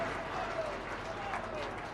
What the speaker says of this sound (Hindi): यशस्वी प्रधानमंत्री के लिए जोरदार ताली बजाओ।